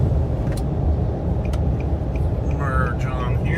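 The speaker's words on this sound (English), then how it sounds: "About 3/4 throttle. Should gather speed fairly quickly." A Nissan Armada SE off-road SUV accelerates on a freeway at about three-quarter throttle, its engine and road noise forming a loud, continuous low rumble inside the cabin.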